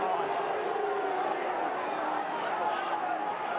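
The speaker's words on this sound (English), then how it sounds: "Crowd again voicing their disgust." Dense, steady roar of a large Australian football crowd at an AFL match between Carlton and Fremantle, voicing disgust with sustained booing that stays loud and unbroken throughout.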